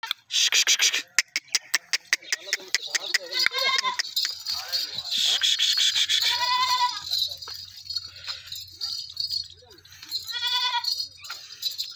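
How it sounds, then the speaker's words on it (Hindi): Goats at a farm bleating repeatedly, close and loud, with rattling clatter at the start and a voice talking between the calls. "ये बकरी चेक करें, बहुत ही प्यारी और ख़ूबसूरत बकरी है"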